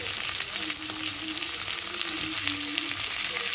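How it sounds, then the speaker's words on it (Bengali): Thinly sliced large potato frying with onion in hot oil, giving a continuous soft sizzle with a crackling hiss at a steady, fairly quiet level and no talking. "নিয়ে আলুটা একটু পেঁয়াজের সাথে ভালো করে লাল লাল করে ভেজে নেব"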